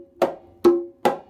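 Three hand strikes on a conga drum play the traditional okonkolo pattern for ChachaElekefuñ. The evenly spaced, resonant slaps ring close and loud, and nothing else is heard.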